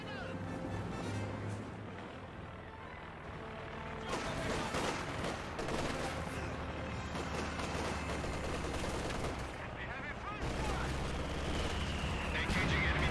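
MG42 machine gun fire in the Company of Heroes 2 video game, rapid bursts mixed with other battle sounds, heard faintly under continuous commentary.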